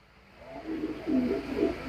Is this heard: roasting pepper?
no